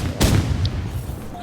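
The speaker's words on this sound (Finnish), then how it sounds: "nyt otetaan assausriflet ja ammutaan sitä pelkästään." Assault rifle fire in the Rivals shooter game, a loud burst of shots near the start followed by a steady rumble of in-game gunfire and explosions, with faint voices underneath.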